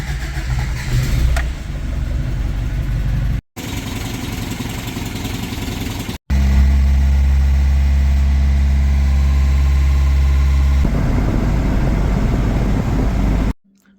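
A 1985 Toyota pickup's 22R four-cylinder engine, with an overheating problem, is heard on a cold day: close, loud running with a restart partway through, then a steady, rumbling idle that goes on until it cuts off near the end.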